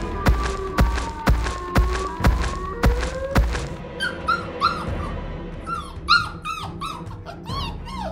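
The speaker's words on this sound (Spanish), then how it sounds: "¿Por qué ladras?" A dog gives a string of sharp, loud barks in fairly even rhythm, followed by higher whimpering yelps and whines, all close and without any talking.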